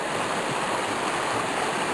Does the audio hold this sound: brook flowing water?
yes